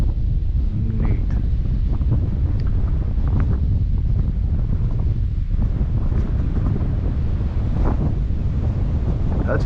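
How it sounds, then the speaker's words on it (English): Strong headwind roars continuously around a small XK P-51 Mustang RC plane at full throttle, a loud, steady wind buffeting across the whole stretch with gusty surges and no talk. "Some strong winds it's flying right into. Strong headwind."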